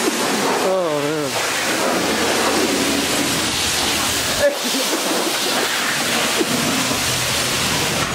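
Steady, dense rush of water spraying over a car in a quick car wash, a loud hiss filling everything, with a voice briefly heard early on and a short thump midway.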